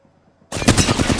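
Rapid automatic gunfire in Apex Legends bursts in abruptly after near silence, loud and close, a dense rattling string of shots with no talk over it.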